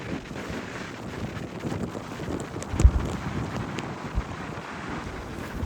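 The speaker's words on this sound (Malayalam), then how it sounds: "ഇവിടുത്തെ കാറ്റിൻ്റെയും തിരയുടെയൊക്കെ സൗണ്ട് കേട്ട് തന്നെ നിങ്ങൾക്ക് മനസ്സിലാവുന്നുണ്ടാവും എത്ര സ്ട്രോങ് ആയിട്ടാണ്" Strong wind and waves on the Mornington Peninsula coast: continuous heavy gusts buffeting the microphone over a broad roar of surf, with a few louder thumps of wind and no talk.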